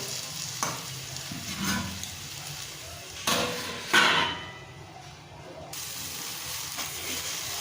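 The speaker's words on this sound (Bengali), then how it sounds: "টমেটো যতক্ষণ না গলে যায় ভালো করে কষতে হবে।" Spice paste and tomatoes sizzle steadily in a pan for Bengali chicken curry, with a constant frying hiss broken by a few sharp scrapes and knocks of a spoon stirring against the pot.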